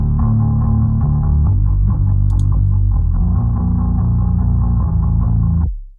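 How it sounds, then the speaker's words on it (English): A low, subby bass synth rumbles with a throbbing, slightly distorted drone, then cuts off abruptly at the end. "This bass is just a sort of subby rumble"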